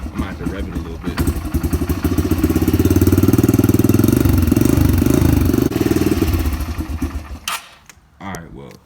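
Cold Honda CRF125 supermoto motorcycle engine idling on choke, then revved up in a sustained loud rising drone before dropping back to a rough, uneven idle; a voice speaks briefly near the end.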